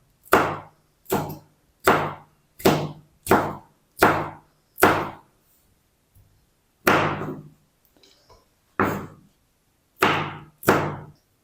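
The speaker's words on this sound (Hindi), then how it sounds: "हरी मिर्च को किस तरीके काटना है, इस तरीके। इनको भी आपने चॉप नहीं करना है, इस तरीके काटना है।" Green chillies sliced with a knife on a cutting board, a series of crisp, separate chops in a steady rhythm, close and clear, with a brief pause midway before the cuts resume.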